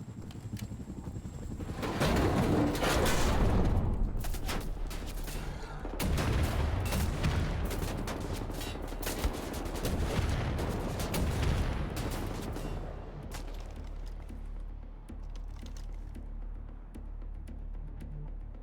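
Gunfire in the shooter game Wolfenstein: The New Order, with a sniper rifle among the weapons: dense bursts of shots and booms through most of the stretch, loud and busy, thinning out toward the end.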